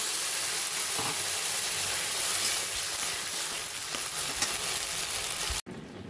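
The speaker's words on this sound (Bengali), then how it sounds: "কুলগুলোকে একটু 2-3 মিনিট মতো তেলে ভাজা করে নিয়ে তারপরে দিয়ে দেবো আমি অল্প করে একটু জল, যাতে কুলগুলো সিদ্ধ হয়ে যায়" Jujubes (kul) cooking in oil with a little water in a pan, giving a steady loud hiss and sizzle that cuts off abruptly near the end.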